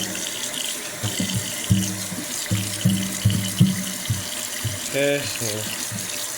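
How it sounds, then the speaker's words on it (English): Kitchen tap running into a sink while hands are washed, a steady close hiss of flowing water with splashing, under a man's brief speech. "wash your hands"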